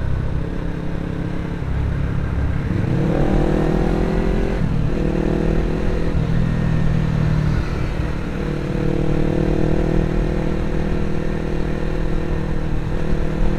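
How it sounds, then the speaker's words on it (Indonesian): Kawasaki Ninja 250cc motorcycle engine running close up, a loud steady idle that rises in pitch with a few throttle blips and revs, then settles, with no talking over it. "Wanjay, Ninja 250 cc ini guys."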